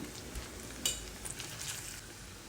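Sliced onions frying in a pan, a soft, fairly quiet continuous sizzle with a couple of brief utensil clinks near the middle.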